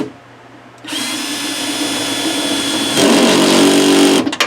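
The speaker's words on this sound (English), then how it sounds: "Now we can use our drill" Cordless power drill driving screws while reinstalling a rear camera on a Ford Edge, a loud close whir starting after a brief pause and rising in pitch and intensity partway through before stopping.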